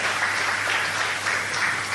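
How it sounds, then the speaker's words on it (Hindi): Sustained applause for the kitchen volunteer team who cooked the prasad at a community gathering, a steady dense wash of clapping throughout with no voices over it. "उनके लिए फिर से और जोरदार तालियां प्लीज"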